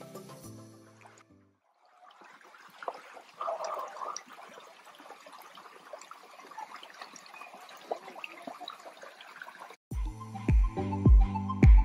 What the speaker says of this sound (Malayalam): നിറയെ മരങ്ങളുടെ ഇടയിൽ ഇങ്ങനെ വെള്ളത്തിൻ്റെ സൗണ്ട് മാത്രം കേട്ടിരിക്കാൻ ഭയങ്കര രസമാണ്